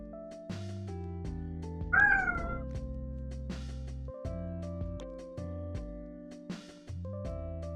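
A cat meows once in a drawn-out, rising call while steady electronic music plays underneath.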